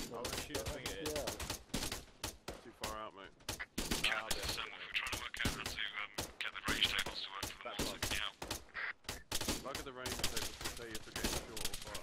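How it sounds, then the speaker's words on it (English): Bursts of game gunfire and rapid machine-gun volleys crackle throughout a battle at a wall and tower, close and loud, with players talking over the shooting. "They started shooting."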